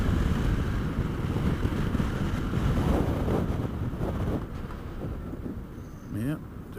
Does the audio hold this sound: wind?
yes